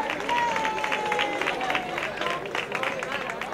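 Crowd applauding a student at an end-of-course ceremony at Doñanita in Almonte, a steady dense wash of clapping with crowd noise and babble under a whistle-like tone, sustained throughout.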